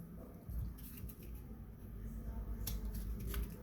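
A utility knife scoring through a sheet of paper along a traced line, a steady scratchy cutting sound close by that runs for several seconds with brief sharper strokes.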